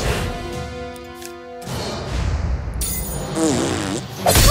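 A fart attack in South Park: The Stick of Truth brings a loud burst of game effects: a tonal buzz, then a crashing whoosh and warbling squeal, all fairly loud and close, with no speech.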